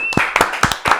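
Close, sharp hand claps from a small audience welcoming a guest on a digital marketing podcast, four or five crisp claps in a quick, loose rhythm over one second.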